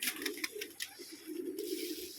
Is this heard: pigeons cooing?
yes